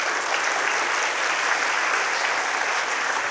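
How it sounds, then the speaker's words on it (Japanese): An audience at a Claris conference keynote in Osaka gives a dense, even round of applause that holds steady from start to finish, with no voices above it. "どうぞ拍手をお願いいたします。"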